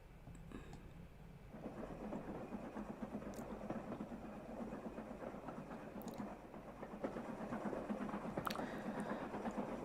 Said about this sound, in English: Let's add some train noise